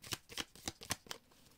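Tarot cards shuffled by hand in a quick run of about six crisp riffling bursts, close and fairly quiet, with no voices.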